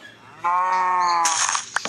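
A single drawn-out cow moo in a Minecraft-style skyblock game, clear and fairly loud, with a synthetic game-like tone, followed by a brief burst of clattering noise.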